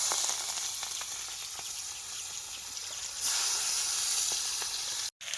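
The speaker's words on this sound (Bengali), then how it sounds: "তেলটা কিন্তু ভালোই গরম হয়ে গেছে। এবার পেঁয়াজ কুচি দিয়ে দেবো।" Chopped onion sizzling in hot oil in a pan over a coal fire, a steady close hiss that swells louder partway through before a brief silent break near the end.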